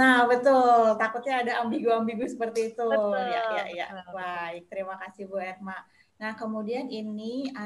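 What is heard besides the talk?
No everyday noises stand out.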